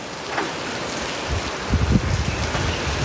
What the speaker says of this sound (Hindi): भूटान में जो बारिश हो रही है